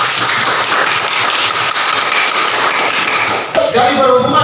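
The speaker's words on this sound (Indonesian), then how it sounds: "Bagus sekali. Tepuk tangan dulu." A classroom of students clapping together in an Indonesian civics lesson, loud dense clapping close by that stops abruptly after about three and a half seconds, followed by some knocking and movement.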